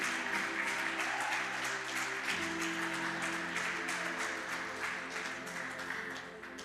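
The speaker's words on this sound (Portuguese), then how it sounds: "Juninho, você pode dar uma salva de palmas para Jesus?" A church congregation applauds for Jesus during a sermon, a dense, sustained patter of clapping heard from a distance over a low, steady hum.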